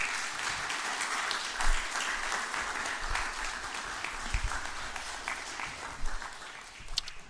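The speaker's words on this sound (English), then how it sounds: "I want you to round of applause to your parents" A graduation audience at a Police Athletic League ceremony gives a round of applause to the parents, sustained crowd clapping heard from a distance, fairly faint, with a few louder thumps scattered through it.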